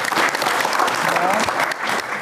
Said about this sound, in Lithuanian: Plojimai jam.